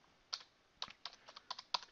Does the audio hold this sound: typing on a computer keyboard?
yes